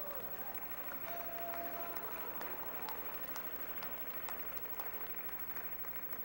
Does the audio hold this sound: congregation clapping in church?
yes